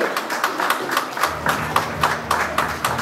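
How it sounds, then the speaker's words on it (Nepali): An audience claps steadily in an even rhythm at a Reliable Nepal Life Insurance program event, with a faint voice underneath. "हाम्रो अतिथिज्यूहरूले चाहिँ एकदमै सबैजना ताली बजाइदिनु पर्यो"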